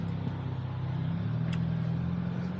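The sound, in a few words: Hyundai Elantra N engine warming up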